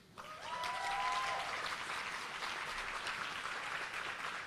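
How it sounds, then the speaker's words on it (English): Audience at a conference hall applauding and cheering after an agency is named, a sustained wash of clapping with a faint whistle near the start, moderately loud and steady throughout. "let's give it a cheer"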